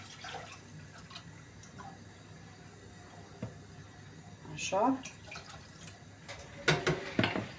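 Water poured into a cooking pot of tomato-sauce soup in a home kitchen, brief splashing and dripping bursts between soft clatter, with a person speaking briefly in Romanian.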